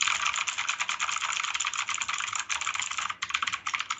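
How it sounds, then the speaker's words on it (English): Fast, continuous clicking from a computer keyboard, close and crisp, with rapid keystrokes running almost unbroken and one brief pause near the end. "ASMR, keyboard sounds."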